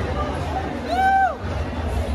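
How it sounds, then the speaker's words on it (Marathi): Festival crowd hubbub at the Sangli Festival, a dense murmur of many voices with a brief whistle-like tone in the middle. "आणि पुन्हा एकदा गर्दी आपल्याला चालू झालेला आहे."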